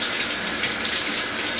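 Water from a kitchen tap runs steadily over an Idaho potato being rinsed, a continuous close splashing hiss with no talk.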